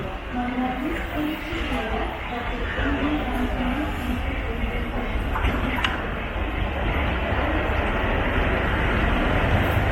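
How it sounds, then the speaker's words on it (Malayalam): The Kannur–Bangalore Express via Hassan rushes past on the opposite track, a loud continuous rumble and rattle of wagons heard close up from inside a moving train, steady for the whole stretch. "അത് ഓപ്പോസിറ്റ് സൈഡിൽ വരുന്നതാണ് നമ്മുടെ കണ്ണൂർ ബാംഗ്ലൂർ എക്സ്പ്രസ് ഹസൻ വഴി പോകുന്ന ട്രെയിൻ"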